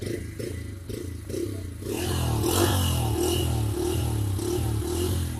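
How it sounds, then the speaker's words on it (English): A Bajaj Freedom 125 CNG motorcycle engine idles with a steady rumble, then revs up and holds a louder, rhythmic throttled roar with repeated pulsing surges. "Let's rev it a little."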